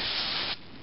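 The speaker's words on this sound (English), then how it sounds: "And we'll also spray down in here from where the filter screen is." Cleaner sprays from a can into the carburetor of an Echo PB-400E backpack blower near the filter screen, a close steady hiss that cuts off after about half a second.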